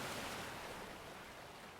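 Sea waves break on a beach lined with coconut palms stirring in the wind, making a faint, steady, distant wash of surf with no distinct individual crashes.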